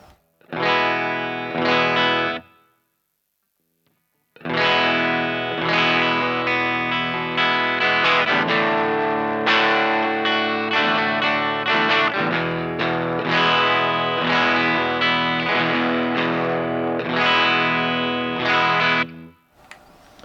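An electric guitar plays through an Aria Distortion pedal set for low-gain, crunchy overdrive: a brief strummed phrase, a short silence, then sustained chords and riffs ringing with a gritty, harmonically rich tone.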